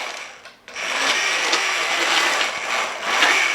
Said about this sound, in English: Take your immersion blender and just put it on low, and you're gonna puree that right up.